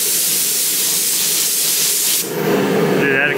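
Primer spray-painted in light dusting coats onto an edge, a steady close aerosol hiss that runs continuously, then breaks off abruptly and gives way to quieter background noise.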